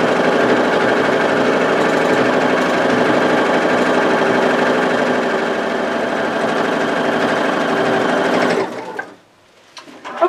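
A sewing machine runs steadily and loudly for about nine seconds, stippling stitches across a felt clutch bag, then stops abruptly. A few faint handling noises follow. No one speaks.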